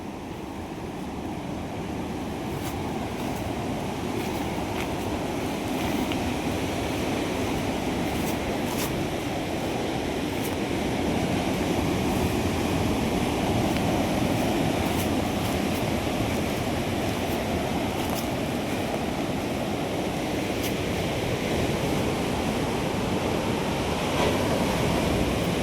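Waves of the Arabian Sea rolling onto Varkala beach below the cliffs, a steady, broad wash of surf and rushing water with occasional wind buffeting, continuous and fairly close.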